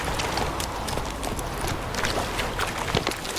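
Hoofbeats of Geralt's horse Roach in The Witcher 3 run at a steady clip-clop rhythm over a busy game soundscape, fairly even and moderately loud throughout, with no talk.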